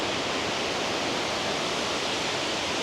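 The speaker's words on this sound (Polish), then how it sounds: "tu kolejny jakiś wodospadzik" Tumpak Sewu waterfall in a lush green jungle setting: a steady, broad roar of falling water, loud and unbroken, with no voices or other sounds over it.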